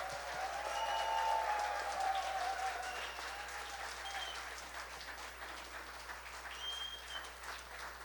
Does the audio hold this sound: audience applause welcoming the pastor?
yes